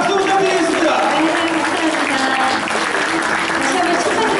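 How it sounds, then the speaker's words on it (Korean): Congratulatory applause from the audience at a police commendation award ceremony marking a newspaper's 30th anniversary, honoring award recipients, presenters and sponsors; steady, dense clapping fills the hall throughout, with voices murmuring beneath. "수상자들과 시상자 그리고 협찬하시는 분께 축하의 박수 부탁드리겠습니다."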